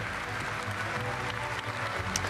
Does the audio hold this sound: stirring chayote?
no